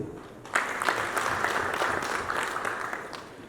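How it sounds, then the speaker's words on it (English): Audience applause at a Uganda tourism trade and investment forum in Dubai, a sustained burst of many hands clapping that starts abruptly and holds steady, fairly close and loud, with no talk over it. "Ladies and gentlemen, clap for the expo"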